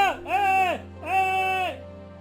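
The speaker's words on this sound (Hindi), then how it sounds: "वीरू अपनी बकरियों के पीछे तेजी से दौड़ गया था" Cartoon goats give two drawn-out bleats, the second after a short pause, sounding close and clear over a faint steady hum.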